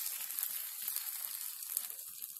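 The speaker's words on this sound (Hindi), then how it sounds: "अब हम इस पे ये जो तड़का तैयार किया था उसे हम फैला देते हैं।" Hot tempering crackles and sizzles steadily as it is spread over fasting-style upvas dhokla, a continuous bright frying hiss close up with no talking.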